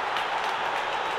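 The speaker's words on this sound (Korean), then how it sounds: "동남아 진영에서는 지금 박수가 터져 나오고 있는데요" Applause from the Southeast Asian team's side of the crowd at a FIFA Online match event, a steady dense wash of clapping heard briefly and evenly throughout.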